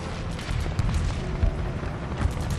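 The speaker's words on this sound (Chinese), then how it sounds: "可这么激烈的枪声，一定是他们的主力不同。" Intense gunfire and booming blasts from a battle scene in a war film about anti-Japanese resistance, a dense continuous rumble of shots and explosions with no voices.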